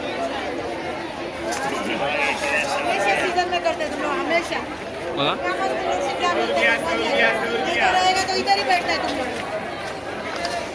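Dense crowd chatter in a packed Dadar market in Mumbai during Ganesh festival shopping, overlapping voices and general hubbub continuing steadily at close range.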